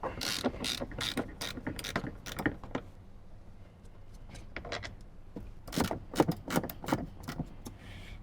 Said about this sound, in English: grab our 10 mil and we'll get these 2 bolts out.